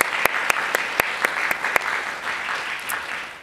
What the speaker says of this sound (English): So can we just give a round of applause to honor Dr.